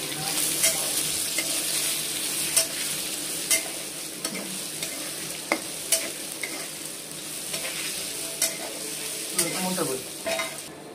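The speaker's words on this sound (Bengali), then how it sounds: "সামান্য একটু মশলা অ্যাড করবো, ভালো করে নাড়াচাড়া করো।" Ground spices fry in a pan with oil and a little milk while being stirred: a steady sizzle runs throughout, broken by repeated scraping and clinking taps of the spoon against the pan.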